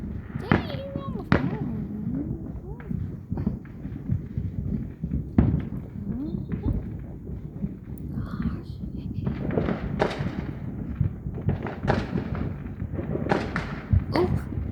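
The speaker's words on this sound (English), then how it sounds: "Take it easy on the fireworks, guys." Fireworks exploding outdoors in a celebration, with repeated sharp bangs and crackling bursts spread irregularly through the stretch, some loud and close, while people talk and react in between.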